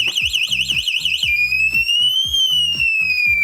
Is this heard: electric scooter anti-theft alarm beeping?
yes